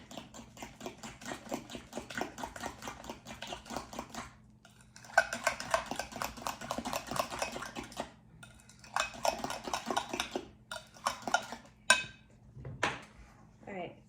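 A breakfast bake batter, lemon blueberry, is mixed in a bowl with repeated scraping and clinking strokes in close bursts separated by short pauses, with a voice talking between stirs.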